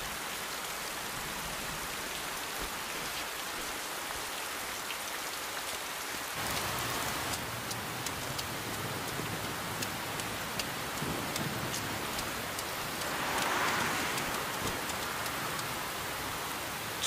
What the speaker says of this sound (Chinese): 这雨怎么也不见小啊？